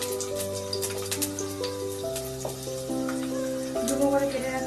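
Diced onions dropped into hot oil sizzle and crackle steadily in a pan, a close, continuous frying hiss over a faint tonal hum.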